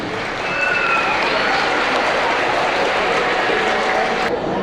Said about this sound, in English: please give a big round of applause welcoming our 8th grade band students